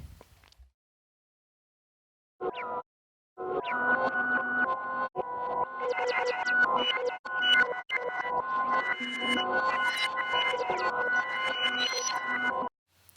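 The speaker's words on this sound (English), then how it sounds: "makes loads of like grains at different pitches, and it's quite random." Shimmering, scattered electronic tones at many random pitches flicker and overlap in a dense wash, broken by brief silences; a fully wet granular effect producing pitch-shifted grains.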